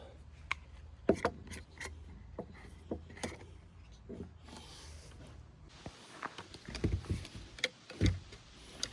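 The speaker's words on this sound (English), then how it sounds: "rub some more mink oil into it" Mink oil being rubbed by hand into leather boots during a restoration: soft, quiet rubbing and scuffing with scattered light taps and knocks, close up and alone.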